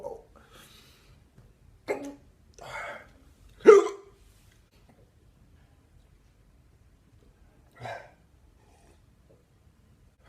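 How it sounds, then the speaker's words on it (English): Hiccups jump out of near silence as several sharp, close bursts spaced a second or two apart, with a breathy sound between them and no talk. "come on, hiccups."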